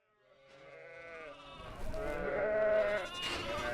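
A sheep in a grazing flock kept for landscape management lets out one long, wavering bleat that swells from soft to loud and stays close by.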